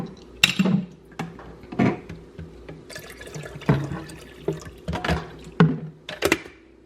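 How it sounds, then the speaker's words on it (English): Water splashing and gurgling from a tap as a pot is filled for boiling to make oatmeal, in irregular bursts with clanks of the pot, close and moderately loud, with no talking. "to speed up the process, I'm gonna boil this water real quick"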